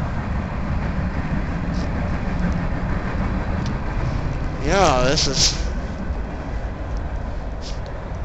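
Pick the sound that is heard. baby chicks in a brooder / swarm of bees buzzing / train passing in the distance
train passing in the distance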